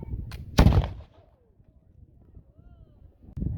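A musket fires at a pirate display at Fort Amherst: one loud, close blast rings out, a quiet pause follows, and a second report begins right at the end.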